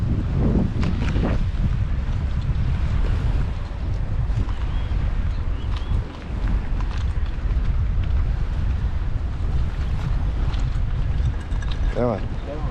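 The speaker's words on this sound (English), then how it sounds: "So a very windy afternoon here on the jetty." Strong gusting wind roars steadily across the microphone on a jetty at the Demerara River, a dense, constant rumble with brief water and boat noises mixed in.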